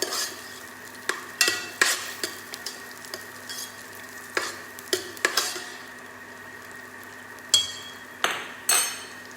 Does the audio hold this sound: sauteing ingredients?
yes